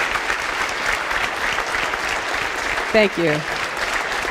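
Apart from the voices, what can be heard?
audience applause for the speaker at a conference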